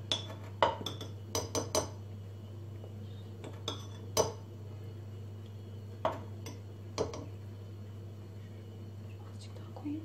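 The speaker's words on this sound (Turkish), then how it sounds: "Şimdi yine aynı şekilde 3 tepeleme yemek kaşığı un koyacağım" Heaped tablespoons of flour spooned into a bowl for a mock tiramisu, heard as scattered light clinks and taps of a spoon on the bowl over a steady low hum, with soft speech.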